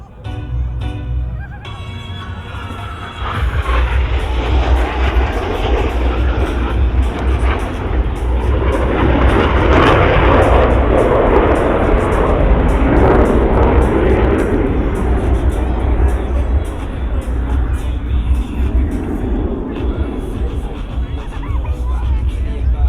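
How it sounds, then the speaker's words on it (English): Blue Angels jets at an Augusta, Georgia air show fly an opposing knife edge pass, swelling from a lower rumble into a loud, sustained, close roar that fills the binaural soundscape, with faint crowd noise beneath. "roll their aircraft to 90 degrees angle of bank and cross canopy to canopy as they perform the opposing knife edge pass"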